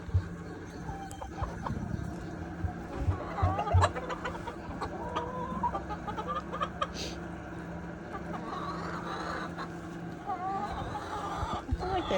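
Chickens and a young rooster cluck and chatter around a farm coop, with scattered close calls over a steady background hum, and a person speaking quietly at times.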